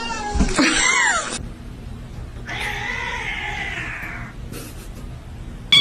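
A kitten gives two drawn-out, loud meows, the first harsher and wailing, the second a longer, smoother cry, close by with a short pause between them and a brief knock at the end.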